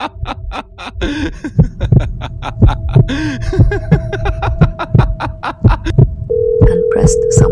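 A woman taps a cell phone keypad to dial a number in an animated kidnapping drama. A quick run of sharp taps and short beeps ends in a steady dial tone, with brief voices and laughter mixed in.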